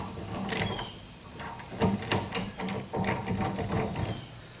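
A wrench or socket tightens a bolt on an Equalizer 4-point sway control weight distribution hitch, giving close, faint metallic clicks and ratchet-like ticks over a steady high hum.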